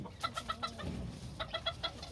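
Bantam chickens in a homestead pen cluck in short, quick bursts, several soft calls in a row, then a pause and another rapid run of clucks, close by and fairly quiet.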